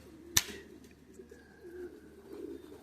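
A Tippler and Homer cross pigeon coos softly at close range, a low murmuring coo running through the moment after a single sharp click, with quiet outdoor background.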